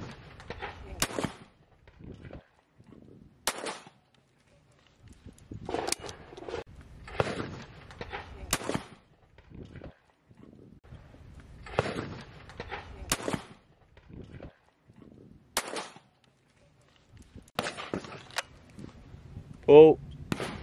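A Beretta DT11 Sporting over-and-under shotgun fired at clay targets outdoors: several sharp, fairly distant-sounding shots spread at irregular intervals, with quiet talk and birdsong between them.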